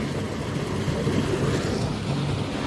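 Strong flow of canal water roaring and rushing steadily, a dense broadband wash close to the microphone, with some wind buffeting and no voices.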